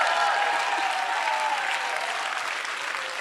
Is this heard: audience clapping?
yes